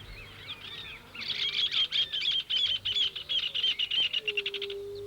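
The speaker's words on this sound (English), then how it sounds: "That's the song of the hornero, Argentina's national bird" A hornero, Argentina's national bird, sings a loud, cheerful run of rapid repeated notes that speeds into a trill. Softer chirps from other birds come before and around it in open country.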